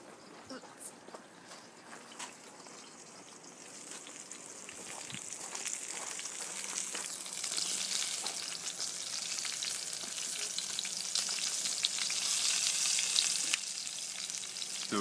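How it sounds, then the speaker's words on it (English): A pork chop sizzles in a pan with woody rosemary, a crackling, spattering fry with scattered pops that builds louder over time while someone talks over it. "The rosemary is going to smoke the meat, even though I'm using a pan."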